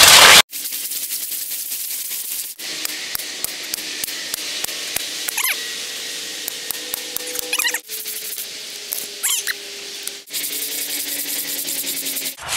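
A small handsaw cutting through a tree, a rapid rasping stroke pattern running continuously in several bursts separated by brief pauses, close and fairly loud.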